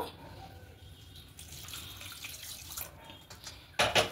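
Tap water runs steadily into a basin while flour dough is kneaded and rinsed until the water runs white, with a louder splash at the end.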